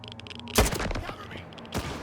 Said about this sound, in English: The gunshots in this game sound punchy, making the virtual gun feel real.